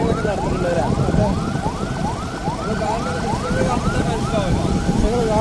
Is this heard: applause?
no